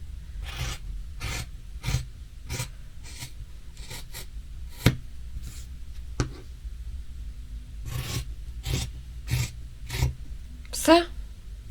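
Scissors cutting fabric for leggings on a table, a close series of short rasping snips at a steady pace with a few brief pauses.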